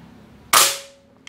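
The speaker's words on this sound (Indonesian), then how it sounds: "Tembakan kedua" A Bulldog OD 38 V2 PCP air rifle fitted with a silencer fires a single sharp, muffled shot, close and loud, with a short decaying tail and a faint click after it.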